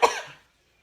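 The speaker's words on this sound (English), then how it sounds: "I'm gonna cough." One short, close cough from an adult at a quiet indoor spot, fading fast into silence.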